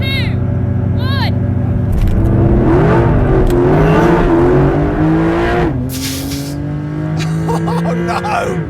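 A new 2025 Porsche 911 Hybrid race car accelerates with a loud, close engine note that climbs in pitch through several gear changes. Excited voices talk over the engine.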